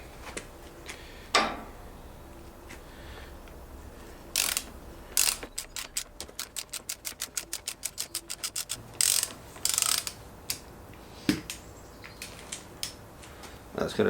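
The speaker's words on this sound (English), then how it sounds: "go to a smaller ratchet" A small hand ratchet turning the preload adjuster top cap on a Triumph Street Twin motorcycle, a steady run of close metallic clicks in the middle, with scattered knocks and handling noises around it and no talking.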